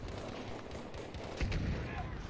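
Gunfire rings out during a squad battle in a tank-and-infantry video game, dense repeated shots and a heavier burst midway mixed with steady game noise and some talk.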